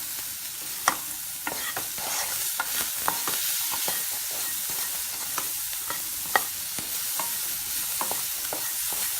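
Peanut salad ingredients sauté in a pan with chaat masala, salt and lemon juice, giving a steady close sizzle punctuated by frequent spatula stirs and scrapes, with no talking.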